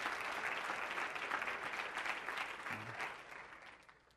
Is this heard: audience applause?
yes